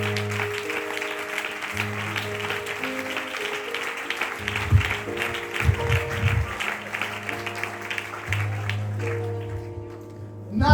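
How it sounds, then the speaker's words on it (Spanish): A church congregation claps in praise of the Lord during a sermon, a steady wash of applause with a sustained organ or keyboard chord underneath and a few louder bursts midway. "Dale un aplauso al Señor"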